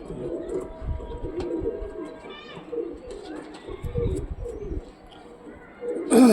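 Pigeons of a Punjab breed coo in repeated soft, throaty bursts close by, with other bird chirps and low background noise, ending in a sharp louder rustle.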